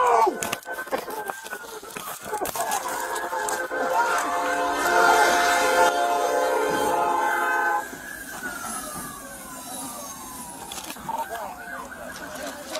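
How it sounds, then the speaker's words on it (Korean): A train blares its horn in a long, loud, sustained tone as it approaches, then the horn drops and the rumble of the passing train continues, with voices over it. "기차가 큰 경적 소리를 내며 다가오자"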